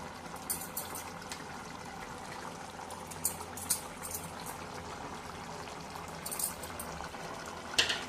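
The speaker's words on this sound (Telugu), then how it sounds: "కాసేపు ఉడకనిస్తామండి" Dondulu fish curry simmering in a covered pot with coriander sprigs, giving a steady bubbling, hissing boil throughout with a few slightly louder pops near the end.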